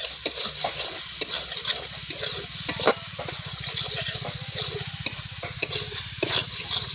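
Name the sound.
frying and stirring egg curry masala in pan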